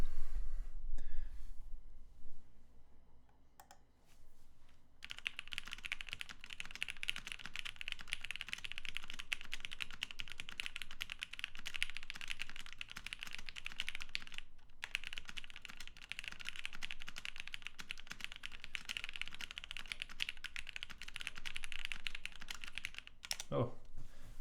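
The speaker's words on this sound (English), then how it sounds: "Let's go ahead and do another typing test on it before we open it up." Steady, rapid keystrokes from an OTD 360Corsa mechanical keyboard during a typing test, a dense continuous clatter that runs close and loud for about twenty seconds after a brief pause at the start.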